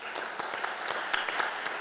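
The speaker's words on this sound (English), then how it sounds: "Montgomery College deserves a round of applause for that." A round of applause for Montgomery College from an audience, steady clapping at moderate level throughout the short stretch with a few sharper claps standing out.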